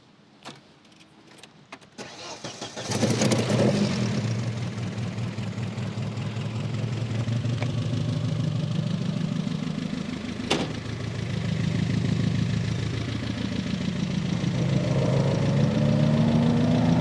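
A modified Opel Kadett engine cranks and catches, then settles into a loud, steady rumbling idle with a deep throaty tone and slight revs; no talking.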